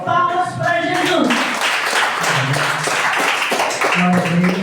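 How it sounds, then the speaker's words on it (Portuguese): A church congregation claps to welcome a preacher. Rhythmic hand claps sound close and loud, mixed with voices and brief tonal sounds. "Vamos receber a serva do Senhor com palmas para Jesus."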